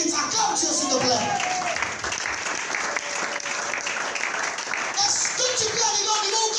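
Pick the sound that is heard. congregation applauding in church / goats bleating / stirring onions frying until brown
congregation applauding in church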